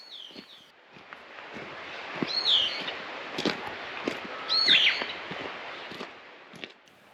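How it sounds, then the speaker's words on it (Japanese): Scattered wild bird chirps and short whistled calls ring out over a steady breezy hiss deep in a forest, with a couple of brighter calls standing out. "野鳥のさえずりと風の音しかしません。"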